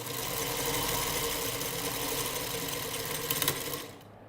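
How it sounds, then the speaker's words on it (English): A sewing machine stitches fabric for a Dresden quilt block, a fast, steady mechanical whir with a rapid needle chatter, ending abruptly after about four seconds. "we're going to do a little bit of fussy sewing"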